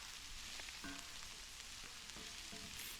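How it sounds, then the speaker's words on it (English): Beet greens fry and are stirred in a pan while cooking off-grid on Hawaii's Big Island. A steady, faint sizzle runs throughout, and soft scrapes of the stirring come through now and then. "So I'm going to put on some black pepper and keep stirring."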